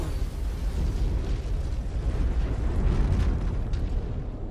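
A destroyed target explodes in the mech combat game MechWarrior 5, a loud, sustained rumbling blast with crackling debris that lasts several seconds.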